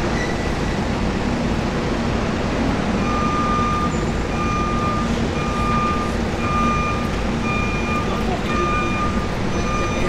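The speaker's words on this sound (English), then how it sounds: "you can see the forklift now taking in all the supplies here." A forklift in a city-building game, set in Blackpool, sounds a steady series of reversing beeps, repeated evenly over a constant wash of traffic and ambient city noise. Someone talks over it.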